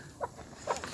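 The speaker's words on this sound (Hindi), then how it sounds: "कड़कनाथ मुर्गा मुर्गा" A Kadaknath rooster gives two soft, brief clucks a moment apart, faint and close against quiet surroundings.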